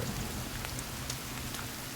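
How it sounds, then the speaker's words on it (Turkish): Steady rain falling in the survival video game The Forest, a constant dense patter of drops with scattered brighter individual hits, close and even throughout with no speech. "Abi yağmur da başladı Sarp."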